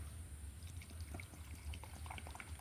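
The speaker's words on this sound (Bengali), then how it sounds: "এবার জল দিয়ে দে, জল দিয়ে দে, হয়েছে।" Water pours steadily into a small play pond, a soft, faint, continuous trickling and splashing heard close by, with no talking.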